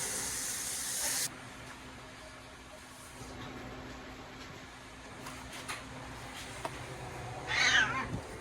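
A cat gives a short meow near the end, after a brief burst of hissing noise, with quiet room sounds in between.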